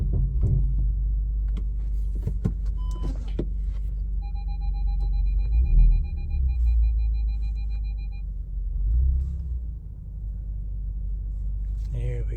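A VW Golf R MK7 fitted with APR charge pipes and a new blow-off valve rumbles steadily at low pitch throughout as it pulls away, with a few light clicks early on and faint talk in the background.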